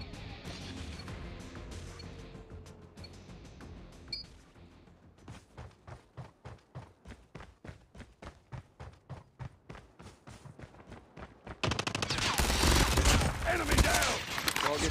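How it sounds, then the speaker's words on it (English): Rapid gunfire from Call of Duty Mobile rattles out in a fast, evenly spaced burst of loud shots, preceded by muffled game noise and followed by a louder, dense crash of sound. "Rapid fire."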